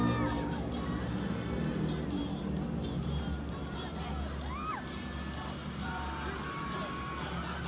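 A large crowd cheers and screams continuously at a P-pop boy group performance at WISH 107.5, with high shouts rising over a steady roar and some muffled music beneath.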